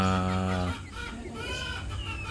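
Rhode Island hen clucking close by in a farm setting, a short series of soft throaty clucks and squawks after a brief low hum.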